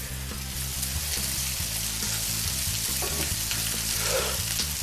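Onions fry in a cast iron pan on a barbecue with a continuous close sizzle and crackle, over a steady low background hum.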